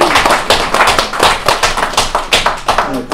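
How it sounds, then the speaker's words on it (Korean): A lecture audience claps loudly and steadily, close up, with dense, rhythmic hand claps that continue without a break through the whole stretch. "오늘 강의를 해주신 우리 교수님에게 여러분 뜨거운 박수로 한번"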